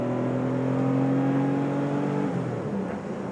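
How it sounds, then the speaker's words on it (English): A classic Porsche 911 Carrera 3.0 with a narrow body and impact bumpers accelerates, its exhaust giving a steady, smooth drone whose tones climb and then shift as the revs change. "It's got a really nice sounding exhaust to this."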